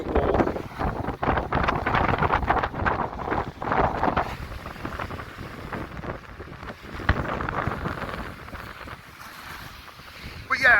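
Strong gusty wind buffets the microphone on the Blackpool promenade by the sea wall on a blowy morning, a continuous loud roar and rumble with no speech over it.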